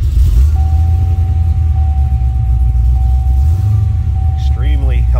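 A 2006 Cadillac CTS-V sedan idling, its steady low engine rumble dominating throughout with a faint whining tone above it, and a voice briefly speaking near the end.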